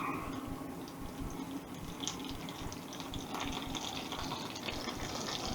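Butter spits and crackles steadily in a hot pan of roasting potatoes, a dense close sizzle that holds level throughout with no speech over it.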